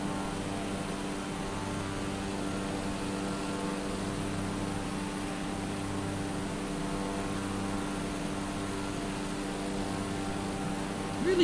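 Small bush plane climbing in flight over Iceland's lakes and fjords, its engine producing a steady, loud droning hum with a constant tone from start to finish, as heard from inside the cabin.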